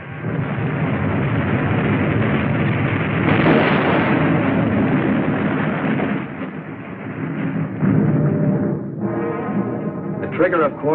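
A depth charge explosion in submarine warfare, heard as a long, loud, rumbling roar that fills several seconds and then fades into lingering turbulence, with a voice speaking over it.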